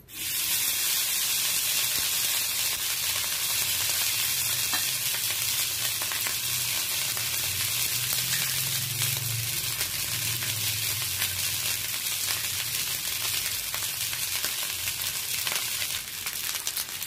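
Cooked rice fries with pepper powder in a pan as a dense, steady hiss of sizzling with soft scraping stirs throughout, close and unbroken over a long stretch with no voices.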